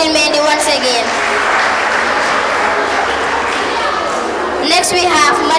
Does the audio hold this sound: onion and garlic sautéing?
no